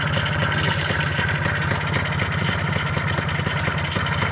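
A Minsk motorcycle engine idles with a steady, fast mid-low thumping pulse, close and loud, running evenly and alone for a few seconds.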